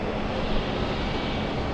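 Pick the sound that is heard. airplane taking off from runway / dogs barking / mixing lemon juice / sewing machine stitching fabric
airplane taking off from runway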